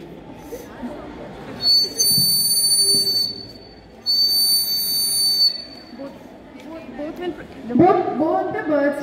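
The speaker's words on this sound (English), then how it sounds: "These are the whistles. Fine. Just listen to the sound." Hollow ceramic bird whistles are blown in a science demonstration, producing two sustained shrill tones of a second or so each, separated by a short pause, with people speaking around them.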